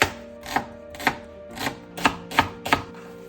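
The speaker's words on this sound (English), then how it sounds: "We're gonna chop up some shallots." Shallots being chopped on a board in a home kitchen: six sharp, evenly spaced knife strikes, close and clear, with a steady low hum underneath and no talking.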